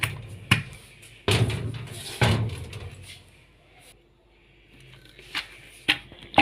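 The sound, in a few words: pounding fresh coconut pieces by hand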